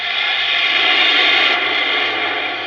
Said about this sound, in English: any second now we're going to hear the injector sound. Hear like this rumble.